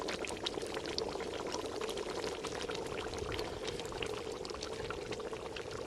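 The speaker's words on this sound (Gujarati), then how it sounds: "અને આપણે જો હવે ટમેટું નાખી દઈ અને આમલી નાખી દઈ અને ગોળ નાખી દઈ" Tomato, tamarind and jaggery go into a pot of simmering Kathiawadi undhiyu in a village kitchen, giving a steady bubbling, pouring-like wash of liquid sound with small crackles throughout, close and continuous with no talk.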